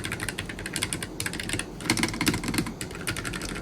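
Fast, steady typing on a K3 Pro mechanical keyboard fitted with pink switches produces a dense patter of soft, muted keystrokes, close and fairly quiet.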